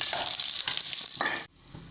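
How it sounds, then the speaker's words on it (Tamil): Dried red chillies sizzle in a spoonful of hot oil in a pan, a steady bright crackle with stirring scrapes that cuts off abruptly near the end. "ஒரு ஸ்பூன் எண்ணெய் ஊற்றி காஞ்ச மிளகா வறுத்துக்கோங்க."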